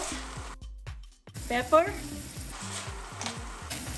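Garlic sautés in a pan with onions while soup is being made, giving a steady sizzling and crackling frying sound with stirring. A brief spoken word breaks in, and near silence follows a short gap before the sizzle resumes.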